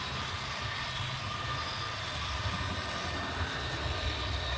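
Two Herpa model locomotives run together in tandem on a layout controlled by a Roco Z21, giving a steady, even rumble and whir with no talk over it.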